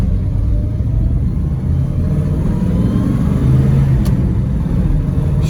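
A 1968.5 Ford Mustang R-code 428 Cobra Jet with a four-speed and 4.30 gears drives along, its engine a steady, loud low rumble from inside the car with a slight swell in revs near the end.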